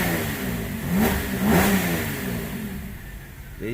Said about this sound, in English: let me ramp up this engine a few times